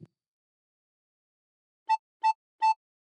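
A recorder with the thumb hole covered and fingers on the first two holes blows three brief identical notes in quick, even succession after a silent stretch, clean and unaccompanied.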